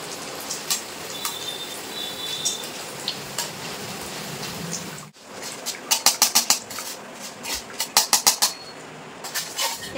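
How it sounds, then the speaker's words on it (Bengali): Flattened rice (chira) fries in oil with a steady hiss, then a run of quick rhythmic metallic taps and scrapes against the pan, loud and close, with no speech. "একইভাবে কিন্তু সব চিড়েগুলো আমি ভেজে নেব।"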